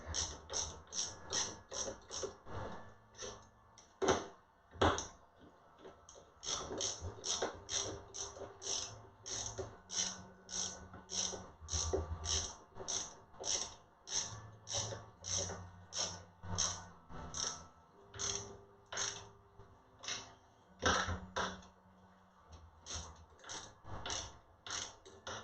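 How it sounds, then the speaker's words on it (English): A 3/8 ratcheting nut driver tightening bolts on a 3D printer extruder, with steady rapid ratchet clicking in repeated runs for a long stretch, close, with someone talking over parts of it. "we'll take the nut driver, the 3/8 nut driver, set it to tighten."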